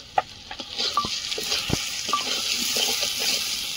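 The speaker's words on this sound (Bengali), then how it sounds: "একটু পেঁয়াজ দিয়েছি তেলে, একটু জিরে গুঁড়ো আর ধনে গুঁড়ো দিয়ে কষাই করে নেব" Onion with cumin and coriander powder sautéing in oil in a pan, a steady broadband sizzle with scattered stirring scrapes and clicks, close and moderately loud, no voices.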